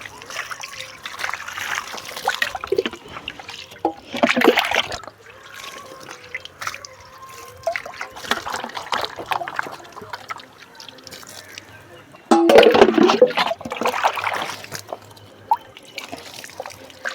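Water scooped from a bucket is poured over hands being washed, coming in splashing bursts and trickles with quieter dripping gaps between them, close and fairly loud.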